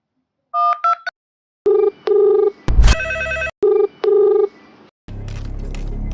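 An old push-button telephone in a comedy spoof is dialled with several short tone bursts, then a loud ringing tone sounds in separated pulses. After a brief gap, a burst of noisy sound follows.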